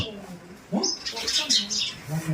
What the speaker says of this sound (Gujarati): અહીંયા ચકલિયું ખિસકોલી આવી ગઈ છે